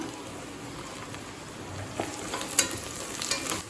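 Onions and mint leaves sauté in a pot for Thalappakatti chicken biryani, a low, fairly quiet sizzle with a few faint spoon scrapes and clicks toward the end.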